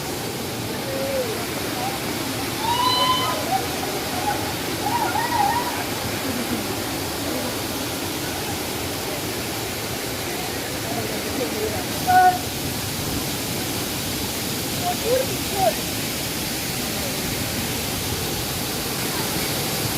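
A waterfall at a secluded spot in Goa, a constant broadband rushing hiss filling the whole stretch at moderate level, with brief voices and faint exclamations surfacing over it now and then.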